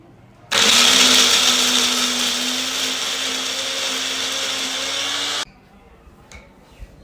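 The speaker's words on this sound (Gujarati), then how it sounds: "હવે આ જે મિશ્રણ છે એને ક્રશ કરી અને એની પેસ્ટ બનાવી લેવાની છે." A blender grinds idli batter mixture into a coarse paste: a loud, steady motor whir starts abruptly, runs for about five seconds, then cuts off, leaving faint clinks afterward.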